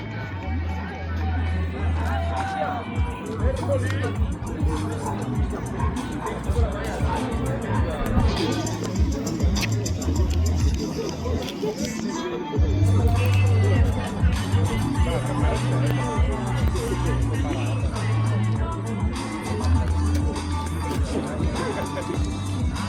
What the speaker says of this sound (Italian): E l'applauso che sentiamo per i protagonisti dalla quarta serie